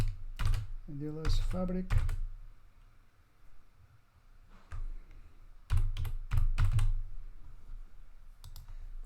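Clicky typing on a computer keyboard comes in scattered bursts of keystrokes, close and fairly quiet, with brief stretches of speech between the taps.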